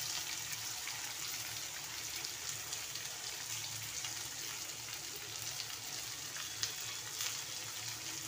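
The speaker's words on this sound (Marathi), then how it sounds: "त्याच्यामध्ये आता हा कांदा फ्राय करायला टाकते." Chopped onion fries in a pan with oil, making a steady, even sizzle and crackle that stays constant and close throughout, with no speech over it.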